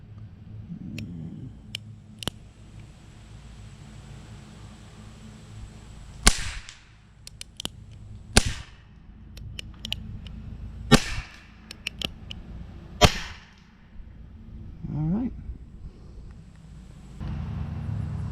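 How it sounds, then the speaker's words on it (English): Heritage Rough Rider .22 LR revolver handled close up, with a run of sharp, isolated mechanical clicks and snaps as the cylinder is turned and the trigger pulled, spaced irregularly over a quiet background. "We are going to just show you how the cylinder rotates on here. And then pull the trigger."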